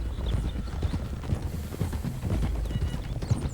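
Horse hooves clip-clop at a steady walking rhythm in Red Dead Redemption 2, close and even over a low rumbling game ambience, with no voices.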